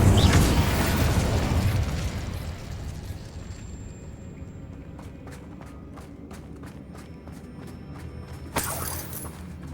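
An Incendio fire spell in Hogwarts Legacy bursts with a loud fiery roar that fades over several seconds, followed by a rapid run of light ticking clicks and a sharp whoosh near the end.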